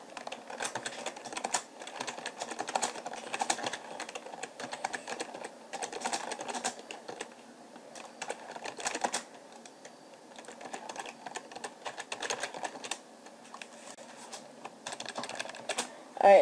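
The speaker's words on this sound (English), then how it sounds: "So, let's just type in some stuff." Someone types on a PC computer keyboard in quick bursts of close, clicking keystrokes separated by short pauses.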